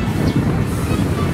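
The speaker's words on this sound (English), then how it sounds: "So windy here today." Strong wind buffets the microphone at Tokyo Disneyland in a steady, heavy rumble with gusty fluctuations.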